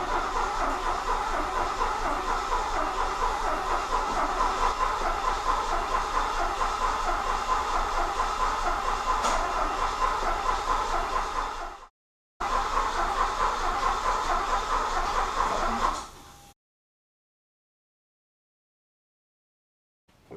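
A DeLorean engine, freshly fitted with a new fuel pump, runs with a steady, loud mechanical drone for about sixteen seconds. It breaks off briefly once, then cuts out into silence.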